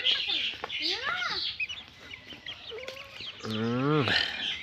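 A rooster crows once in a long, drawn-out call near the end, after scattered clucks and chirps from nearby fowl among other farm birds.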